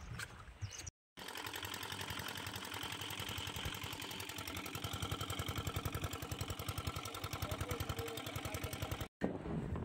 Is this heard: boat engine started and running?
yes